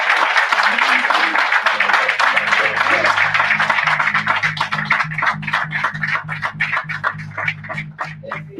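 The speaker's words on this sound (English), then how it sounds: "I want to get a loud round of applause for Brandon Carter" A loud indoor audience at a live training event claps together in a dense burst for a guest taking the stage, and the applause thins into rhythmic unison claps while background music plays underneath.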